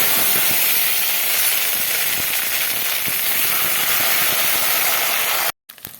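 Loud, steady sizzling and crackling of ginger paste, cumin, garlic and onion frying in a hot pan, dense hiss with scattered pops, cutting off abruptly near the end.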